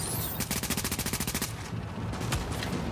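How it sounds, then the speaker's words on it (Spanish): A rapid burst of automatic gunfire in the video game The Division, a loud even rattle of closely spaced shots, followed by a few scattered shots and louder single cracks. "me estoy disparando ahora"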